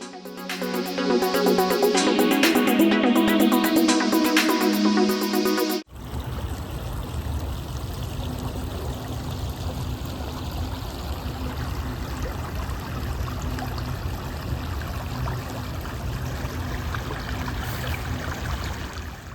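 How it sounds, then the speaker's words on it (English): A creek flows and babbles steadily, a constant rushing stream close by, after a few seconds of music that cuts off abruptly. "so it's always nice to get a little bit of that flowing water sound"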